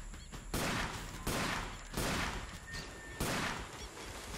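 Rapid rifle fire at buffalo in the video game Cabela's African Adventures: four loud, sharp gunshot blasts about 0.7 seconds apart, each followed by a ringing decay, with no speech.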